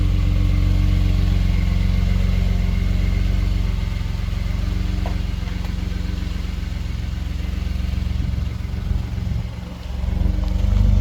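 A Ford F150 truck fitted with an aftermarket exhaust is driving, and its steady low rumble stays loud and close throughout, with a brief dip and swell near the end and no speech.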